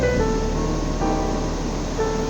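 Ocean waves and surf rolling in steadily from the sea, a continuous broad wash of water with no pauses and no voices over it.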